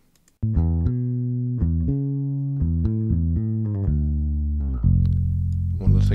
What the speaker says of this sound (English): So now let's move on to a bass guitar.